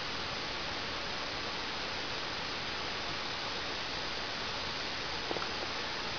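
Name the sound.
hissing between two close copper wires of a spark gap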